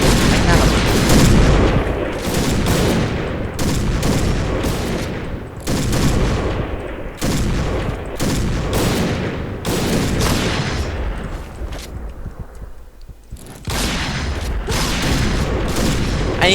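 Rapid gunfire bursts and booming shots from the online shooter Point Blank, sniper rifles included, repeat loudly in dense volleys with brief pauses, mixed with game effects and occasional voices.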